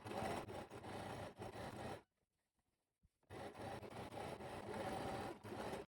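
Sewing machine running a seam on a fabric scrunchie, a steady close mechanical whir that stops for about a second before resuming just as loudly.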